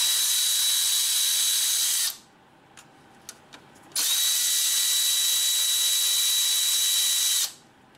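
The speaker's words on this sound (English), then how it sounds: "I just have a 10 millimeter socket on the electric ratchet" Close by, an electric ratchet fitted with a 10 mm socket whirs in two long steady bursts with a high motor whine, removing bolts from a 2012-2015 Honda Pilot power steering pump, with a few small metallic clicks in the pause between.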